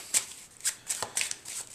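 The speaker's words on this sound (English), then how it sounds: "we'll have one placed back into the deck like so, and we'll shuffle it in" A deck of playing cards is shuffled during a card trick, giving several quick, crisp riffling bursts close by with short pauses between them and no talking.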